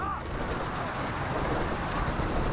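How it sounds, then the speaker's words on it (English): High explosive artillery rounds landing in Company of Heroes 2 merge into a dense, continuous roaring rumble like heavy rain, steady and loud throughout with no distinct separate blasts. "High explosive rounds raining on in."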